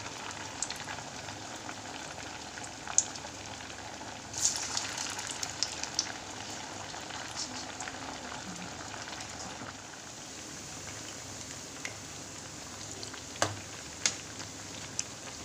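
Masal vada fry in hot oil made with leftover rice, giving a soft, continuous crackling fizz like light rain, with occasional sharper pops and no voices.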